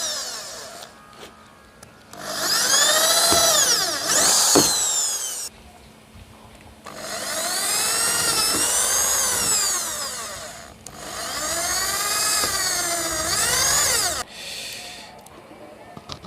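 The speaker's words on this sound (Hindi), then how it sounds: "अब ड्रिल की सहायता से हम इसको छेद करेंगे।" An electric drill bores a hole through a plastic water tank, whining loudly in several long bursts with short pauses between them, and a voice is heard in the gaps.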